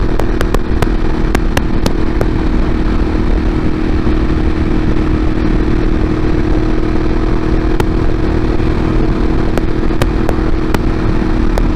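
A motorcycle being ridden, its engine droning steadily and loud throughout with constant wind rush and occasional sharp clicks; no one speaks.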